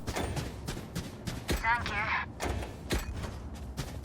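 A shotgun fires repeatedly in Valorant, with sharp, punchy blasts at a rapid, irregular pace along with other game effects, while a voice talks over the shots.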